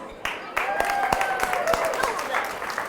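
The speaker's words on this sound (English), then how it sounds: "Give yourselves a hand" Audience applause for community farm volunteers at a food and farm show, a steady wash of many hands clapping with sharp individual claps standing out, close and fairly loud throughout.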